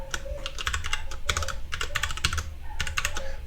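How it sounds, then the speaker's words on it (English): Someone types a username on a computer keyboard, quick bursts of close, crisp key clicks separated by short pauses, with no talking. "Now what you're going to do is type your username."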